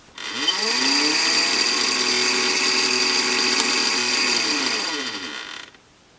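A ProsKit SS-331 desoldering station running with its pump motor rubbing on internal wires, a steady buzzing whine with a scraping edge that starts abruptly, holds for about five seconds, then cuts off, close to the mic.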